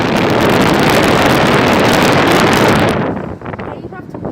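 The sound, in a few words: Nordyne 2.5-ton air conditioner running with frozen suction line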